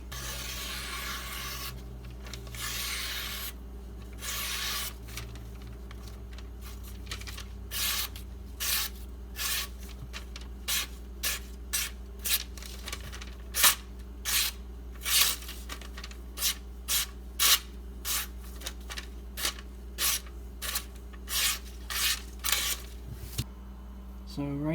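A Benchmade 943 knife edge scraping across a Haidu silicon carbide sharpening stone in a steady series of short, gritty strokes, the pace picking up toward the end, faint and close with quiet background hum.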